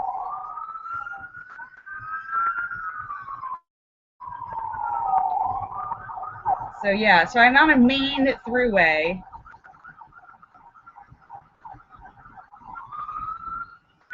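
Emergency sirens wail near a freeway, close to a police station and a hospital, with one rising and falling siren swelling loudly in the middle of the stretch while a person talks over the top.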